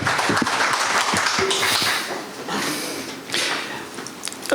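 An audience at the opening ceremony of a plastics forum applauds to welcome a speaker. The dense clapping is loud at first, then thins out and fades over a few seconds.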